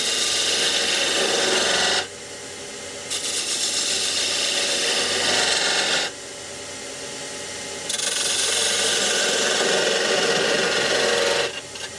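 Wood being turned on a lathe with a 3/8 detail gouge while shaping a multi-axis candlestick holder, a steady rasping cut that comes and goes in long passes, pausing briefly twice, close and fairly loud with no talk.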